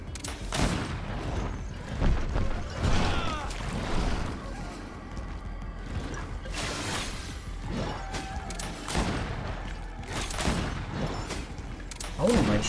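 Gunfire in the video game GreedFall comes as repeated loud bursts of shots at irregular intervals, mixed with game sounds and a person talking.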